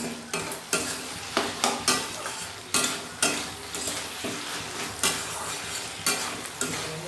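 Pui shaak chorchori, a Bengali stir-fried Malabar spinach dish, is stirred with sugar in a pan: rhythmic scraping strokes of a spatula roughly every half second over a constant frying sizzle, close and clear, with no voices.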